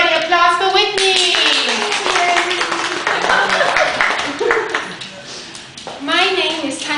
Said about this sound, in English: Everybody applause for Whitney.